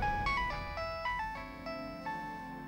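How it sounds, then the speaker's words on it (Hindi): A phone rings with a melodic electronic ringtone, a repeating pattern of bright tonal notes heard close and clear with nothing else going on. "अरे उठा ले फोन।"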